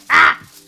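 A person imitates a seagull with one short, harsh, nasal squawk in a home kitchen, loud and close.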